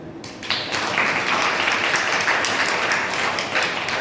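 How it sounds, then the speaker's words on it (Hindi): A crowd claps loudly and continuously, a dense wash of applause that starts suddenly and holds steady. "लो जोर से ताली बजेगी"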